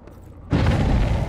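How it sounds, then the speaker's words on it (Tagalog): A sudden loud booming explosion in the video game Dead by Daylight, cutting in after a quiet moment and sustaining as a heavy rumbling blast. "Grabe, may sumabog agad doon."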